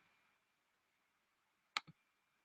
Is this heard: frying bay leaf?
no